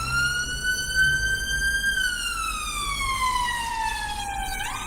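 An ambulance siren passing outside, loud and steady, its wailing tone rising and then falling in pitch as the vehicle goes by, with traffic noise underneath.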